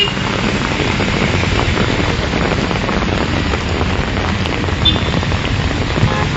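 Heavy rain pours down steadily at Chennamma Circle in Belagavi, a dense, loud, unbroken roar of downpour across the whole stretch with no voices.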